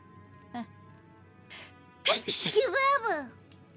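A single sharp sneeze bursts out close by, followed right away by someone talking.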